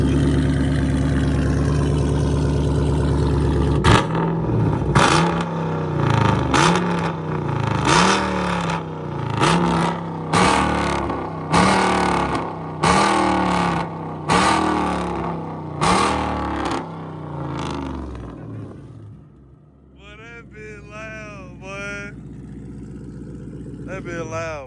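A Dodge Scat Pack Charger and an SRT Jeep give loud, close exhaust revs, a rapid series of sharp throttle blips with deep rumbles between, followed by voices talking over idling engines.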